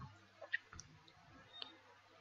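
Computer mouse clicks while working in AutoCAD 2018: a few sharp, faint clicks scattered over a quiet background.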